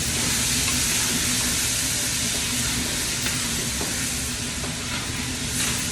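Chopped tomatoes sizzle steadily in a hot pan while a sambar base cooks, a dense continuous frying hiss with faint crackles, close and even throughout, with no one talking.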